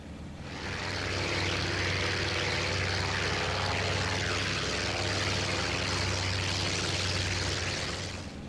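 Steady, loud drone of a Mitsubishi A6M2-N Rufe floatplane's propeller engine in the IL-2 1946 flight simulator, a continuous low hum with airy wash that fades in over the first second and holds level before easing slightly at the end.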